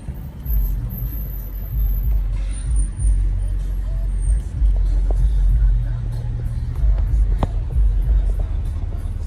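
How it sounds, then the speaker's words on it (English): An orange Dodge Charger drives by in city traffic near Central Park. A low engine and road rumble runs steadily under a loud background of passing vehicles, and a voice talks over it. "Orange Dodge Charger."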